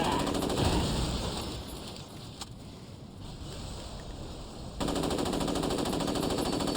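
AK rifle firing in the Saints Row video game, rapid automatic gunfire blended with game ambience and wind-like noise, fairly steady throughout with a louder stretch near the end.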